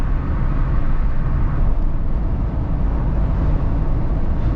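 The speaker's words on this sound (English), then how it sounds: "A lot of road noise." Steady, loud broadband road noise heard from inside a Jeep Wrangler 4xe cruising at around 70 mph, a constant rumbling roar with no talking.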